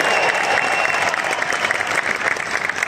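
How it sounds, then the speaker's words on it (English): A large audience applauds, steady, dense clapping that stays loud for the full three seconds, with some crowd noise mixed in. "Let's give them a big round of applause"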